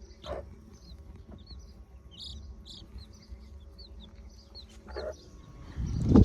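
Soft hen clucks come and go over a steady background of insects, with faint high peeping calls from fourteen chicks scattered through; a louder rustle rises at the end.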